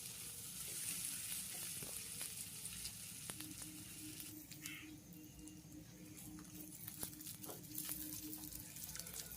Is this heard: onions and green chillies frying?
yes